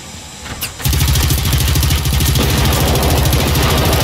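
A tractor engine in the video game Generation Zero catches and settles into a loud, steady, rapid chugging idle that fills the scene after a short quieter lead-in.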